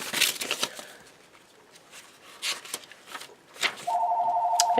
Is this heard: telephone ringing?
yes